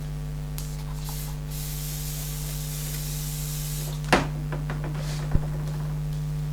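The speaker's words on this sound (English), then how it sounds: "we'll start off using the hairspray" A steady hiss of hairspray from an aerosol can runs through the first half, fading out, followed by a couple of sharp clicks and taps, while scatter is fixed onto model trees in a small spray booth.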